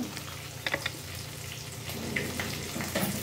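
Vegetables for a Telugu pappu dish fry and sizzle in a pan, a steady close crackle with small pops and bursts of stirring and no voices.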